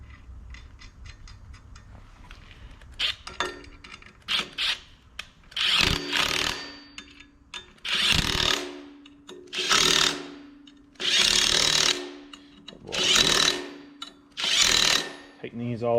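A power tool works on bolts of a 6.7 Cummins injection pump, giving several separate whirring, ratcheting bursts of a few seconds each. Lighter mechanical clicks come before them, with short gaps between the bursts.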